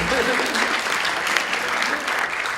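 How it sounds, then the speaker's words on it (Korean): Brisk applause from a gathered audience at a Korean diaspora next-generation conference fills the whole moment, a thick continuous patter of many hands clapping. "박수요."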